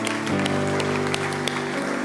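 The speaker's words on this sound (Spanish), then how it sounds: "Vamos a darle un aplauso bien grande al Señor" Steady applause fills a church worship gathering, a dense, even wash of clapping that carries on throughout, with sustained held tones beneath it.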